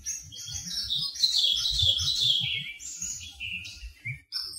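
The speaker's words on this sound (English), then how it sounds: "Occasionally through the night, I hear bird song." Bird song at night in woodland, a run of high chirping and warbling phrases close by, over faint low rustling and thumps.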